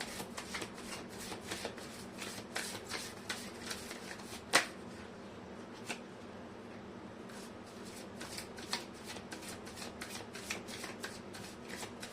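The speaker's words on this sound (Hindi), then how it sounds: "मैं कर लेती हूँ कार्ड की शफलिंग।" Tarot cards are shuffled by hand in a quiet room, a soft, rapid run of papery riffles and flicks with one sharper snap midway, and no voices.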